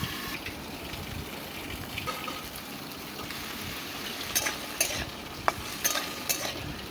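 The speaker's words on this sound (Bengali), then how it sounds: "করলা ভাজা চাপিয়ে ফেললাম" Bitter gourd fries in a pan on an outdoor stove, a steady oily sizzle at moderate volume, joined near the end by several sharp scraping clicks of stirring.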